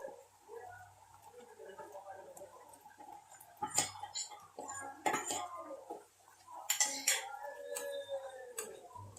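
A spoon stirs spicy squid fry with chili powder in a pan, giving irregular bursts of metallic scraping and clinking against the pan, close and fairly quiet between strokes.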